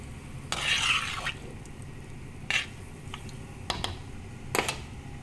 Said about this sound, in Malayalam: ശരിക്കും അങ്ങോട്ട് യോജിപ്പിക്കുക